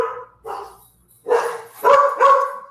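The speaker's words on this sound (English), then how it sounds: "Wow, dogs are barking." Dogs bark in short, loud bursts nearby, with a few rapid yaps clustered toward the end and brief gaps between them; no one speaks.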